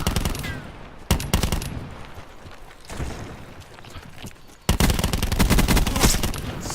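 A GK5 fires in Call of Duty Black Ops 4 Blackout in rapid automatic bursts, loud and punchy, with a short gap before a heavier stretch of continuous fire.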